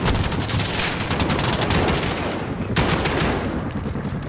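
Rapid bursts of automatic gunfire ring out loud and close in a Call of Duty Modern Warfare 2019 campaign battle, a dense sustained rattle with a brief lull before firing resumes.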